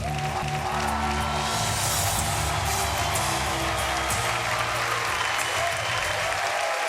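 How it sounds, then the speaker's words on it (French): A studio audience at a French-language television hypnosis show applauds in a loud, dense, continuous roar of clapping that holds steady throughout, with faint crowd murmur beneath. "mesdames et messieurs, on applaudit nos sujets de ce soir."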